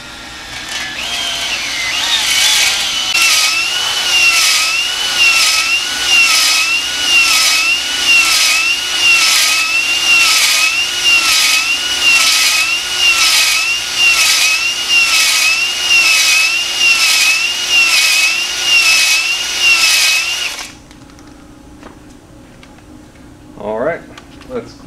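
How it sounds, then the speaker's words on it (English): A power drill spins steadily with a rhythmic, pulsing grind as a ball hone works inside an engine cylinder bore of a junkyard 408 block, running for about twenty seconds before stopping abruptly. "Get your drill going first."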